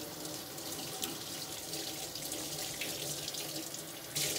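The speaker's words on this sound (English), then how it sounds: "I'm going to wash them off now." Water runs steadily from a sink tap during handwashing, a continuous close hiss and splash with a louder surge near the end and no voices.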